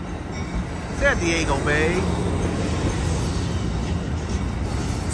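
An Amtrak train, the Coast Starlight #11 or Capitol Corridor #528, rolls past Emeryville Station in a steady, close rumble with faint wheel squeal, while someone talks over it.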